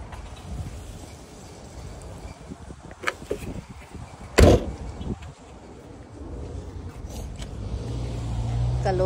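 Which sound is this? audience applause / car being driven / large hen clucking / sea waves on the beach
car being driven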